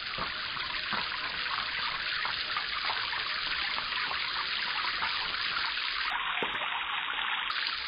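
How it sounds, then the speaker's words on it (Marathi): A stream of water trickles and splashes in a steady, soft, continuous flow outdoors, with faint brief knocks in the background. "पाणी पितोय आणि काय?"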